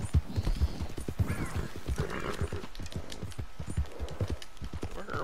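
Horse hooves in the video game Red Dead Redemption 2, a steady, close clip-clop of a short, fast horse trotting, with soft whinny-like tones and faint background sounds riding over the rhythmic hoofbeats.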